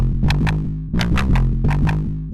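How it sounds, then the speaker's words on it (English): A distorted synth bass plays a rhythmic pattern of gritty, buzzing notes with bright swelling filter sweeps, loud and up front with no voices. "Distortion before and after filter makes a big difference"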